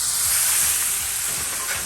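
Cornish hens sizzle in a hot pan, a loud bright steady frying hiss with faint low clatter underneath, close up and without speech.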